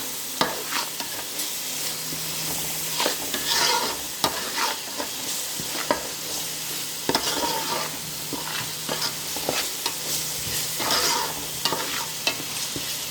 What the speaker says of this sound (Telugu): మసాలా ఫ్రై అయిపోయింది.